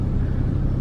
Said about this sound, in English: just jumped in the cab on our way to the airport now